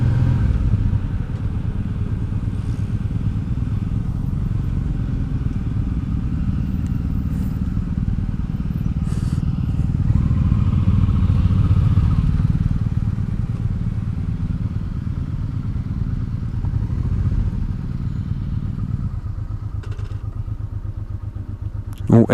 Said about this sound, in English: The bike's flipping, struggling a little bit with idle.